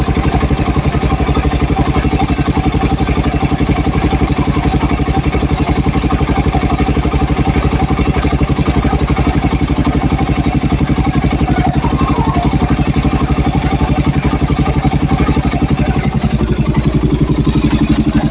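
A second-hand 180cc motorcycle engine runs steadily close by, a continuous low rumbling idle with a fast, even pulse that holds for the whole stretch and shifts slightly near the end.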